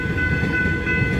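An X'Trapolis 100 electric train runs past the Diamond Street level crossing in Eltham, Victoria, a loud, close rumble with a steady mechanical tone throughout.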